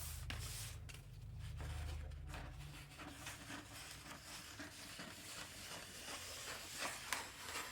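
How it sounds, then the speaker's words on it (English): Scissors snipping through fabric during a sewing project, a run of close, crisp cuts and rustling handling, steady and moderately quiet, with no talking. "Actually, I'm going to cut some more."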